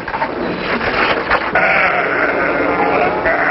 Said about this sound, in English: Sheep, pigs, cattle, and other animals are carried in stock cars.